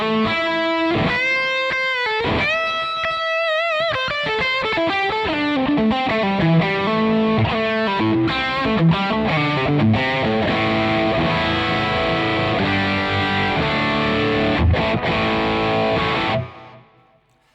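An electric guitar through overdrive, delay and reverb plays a sequence of ringing, sustained distorted notes with echoing tails, loud and continuous until it cuts off near the end.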